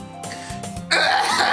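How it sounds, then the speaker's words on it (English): A person clears their throat with a couple of rough, close, loud rasps, ending in a longer breathy burst. "I gotta clear my throat right now."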